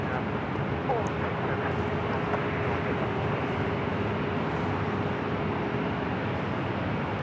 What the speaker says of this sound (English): Next arrival is NetJets flight 900 coming up from Van Nuys, California, Cessna Citation Latitude.